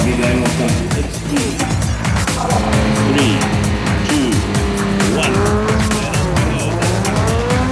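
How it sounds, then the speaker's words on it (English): Off-road rally production vehicles race past on the Donaldson Prologue stage of the 2010 Sun City 400, with loud, continuous engine roar, repeated pass-bys and tire squeal on the rough course. "Anthony Taylor and Robin Houghton led away the production vehicle field on the Donaldson Prologue"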